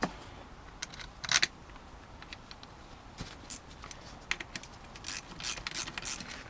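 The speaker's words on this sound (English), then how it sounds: "we're gonna go ahead and put in more bolts in from that" Ratchet wrench driving bolts into a Ford Fiesta ST transmission housing during reassembly, with quiet bursts of rapid clicking that come and go and thicken near the end, close by with no talking.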